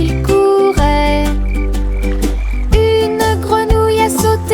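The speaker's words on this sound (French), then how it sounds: "Une grenouille a sauté et a fait signe de la main." Cartoon frog croaks in a children's nursery-rhyme song, the croaks set against bright, steady music with a deep bass line throughout.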